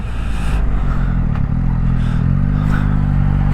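A Yamaha MT-09 motorcycle engine runs close by, a loud steady low rumble with a slight shift in pitch partway through and no speech.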